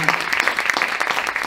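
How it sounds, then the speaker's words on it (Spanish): Applause from an audience at an informational talk about ALS in a Spanish village, a steady wash of clapping throughout the short moment. "un aplauso."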